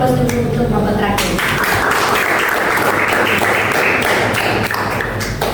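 A classroom full of students applauds the last group, with dense, steady clapping, loud and close, that continues for several seconds and then tapers off.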